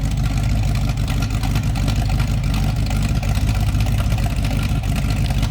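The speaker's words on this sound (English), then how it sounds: "How about that for a throaty exhaust?" A 1969 Pontiac Firebird's deep, rumbling engine idles steadily close by, with a low, throaty exhaust burble that stays constant throughout.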